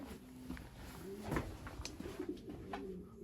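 Racing pigeons coo in a loft after a race, soft repeated low coos overlapping with faint chirps and rustling, moderately close but quiet.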